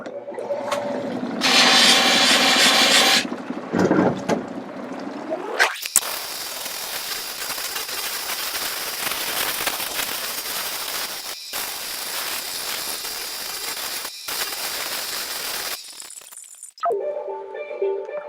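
A 1200 grit lapidary wheel polishes chrysoprase stone dry, giving a loud, steady broadband whir with brief drops. Short bursts of other sound come before and after.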